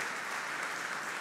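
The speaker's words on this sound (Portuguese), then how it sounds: "dá uma linda salva de palmas ao Senhor" A church congregation claps in response to the preacher during a Portuguese-language worship service, a steady, dense wash of applause filling the short moment.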